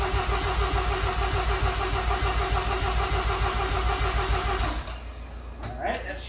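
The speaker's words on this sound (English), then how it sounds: "you'll start hearing the engine compression and see some blips in the screen" Car engine cranking over with the starter during a compression test, a steady rhythmic chugging pulse close up for about five seconds before it stops and quieter handling noises remain.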